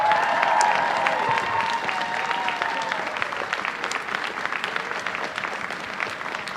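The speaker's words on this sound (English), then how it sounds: "Everybody, a round of applause for your judges." Sustained crowd applause at a CONvergence 2023 masquerade, honoring the judges, a dense wash of clapping with scattered cheers and a faint voice underneath, steady throughout.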